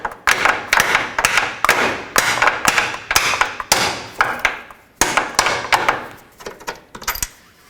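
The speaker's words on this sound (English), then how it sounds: "Drive the bolt out." A hammer strikes repeatedly to drive a bolt out of a front lower strut fork bushing on a 2004-2008 Acura TL, about fifteen sharp metallic blows in an uneven, fast rhythm, close and loud.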